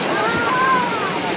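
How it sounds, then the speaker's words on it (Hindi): Water pours steadily into a metal pot at a village spring in the Uttarakhand hills, a constant close rushing splash with no break. "यहाँ पर देखो बंठे में पानी भर रहे हैं"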